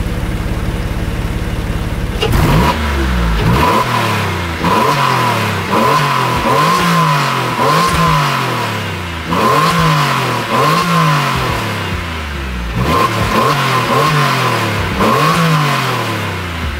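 A Porsche 911 996 Carrera 4 engine starting up, then revved repeatedly from idle in loud, close, rhythmic blips that rise and fall with a deep mechanical growl.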